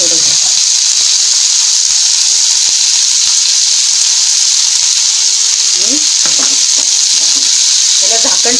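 Onion roasting in a pan with a pinch of rock salt, a loud continuous hiss of frying with a few scraping stirs near the end and faint background voice.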